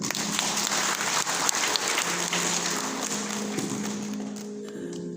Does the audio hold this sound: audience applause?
yes